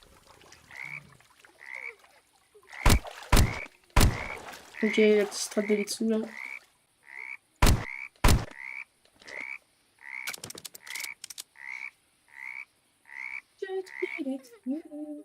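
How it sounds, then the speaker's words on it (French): Frogs croak by ponds in a forest survival video game, giving a steady, evenly spaced run of repeated croaks over about fifteen seconds, with a few loud sharp clicks and someone speaking French briefly over them. "Émerge des étangs. Oh, il y a des grenouilles."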